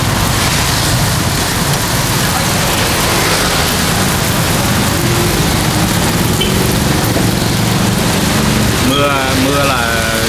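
Steady rain falls throughout, a dense broadband hiss that stays loud and even from start to finish, with a brief wavering tone rising near the end.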